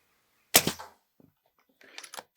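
A single sharp gunshot from an air rifle at a shooting range, loud and close, followed by a faint click and a few quieter trailing noises.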